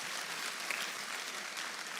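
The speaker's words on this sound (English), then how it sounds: "y'all can clap for that" Audience applause in a church, a dense, even wash of clapping held for the whole stretch, moderately distant and fairly soft, with no voices over it.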